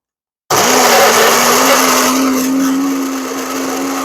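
A food processor whirs on abruptly after a brief silence, a loud steady high-pitched motor hum that continues evenly to the end.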